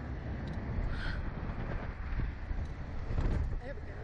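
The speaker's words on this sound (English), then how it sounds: "And the wind up here." Strong wind buffets the microphone high up on a swaying amusement ride, a steady loud roaring rush that continues for the whole stretch.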